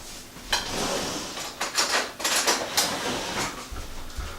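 A spoon taken out of a kitchen drawer during cheesecake making, giving a few light metallic clinks and rattles of cutlery, with a soft thud of the drawer at the end.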